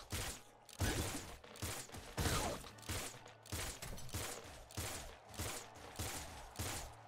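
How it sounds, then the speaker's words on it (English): Rapid, continuous weapon fire from the video game Nuclear Throne crackles in dense repeated bursts throughout, fairly quiet overall with no speech over it. "Just keep firing."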